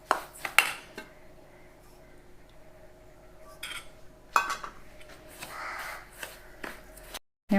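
A spoon mixes idli batter ingredients with curd in a bowl, making scattered clinks and scrapes against the bowl with quiet gaps between strokes. No one speaks.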